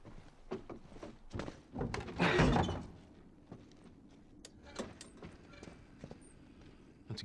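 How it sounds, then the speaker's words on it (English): A door in The Last of Us shuts with a dull thunk amid shuffling footsteps and soft bumps, the loudest scraping swell in the middle, all fairly quiet. "And you close the door?"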